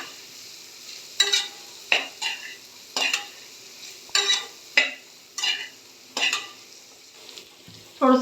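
Carrots, three kinds of capsicum and broccoli being sautéed and stirred in a pan: a steady sizzle broken by about ten sharp scraping stirs in an irregular rhythm, close and clear with no talking.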